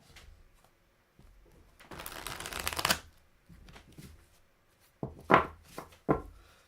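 A tarot deck is shuffled and dealt into three stacks. Close papery riffles and card slaps come in several short bursts with quiet gaps between.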